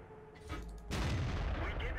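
A tank cannon fires in the video game World of Tanks, a single sharp, heavy blast that follows a short stretch of engine hum and quieter activity, with the loud report and rumble lingering afterward.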